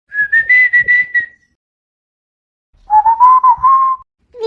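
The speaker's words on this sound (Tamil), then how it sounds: "விசில் தானே அடிக்கிட்டோம்." A person whistles two short melodic phrases, each a run of clear, separate notes, loud and close with a silent gap between them.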